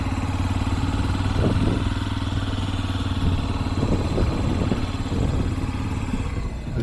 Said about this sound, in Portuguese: Esse aqui da moto, bem rápido, né?